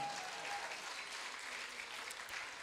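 A church congregation applauds during a service: a steady, fairly quiet wash of many hands clapping together with no distinct individual claps.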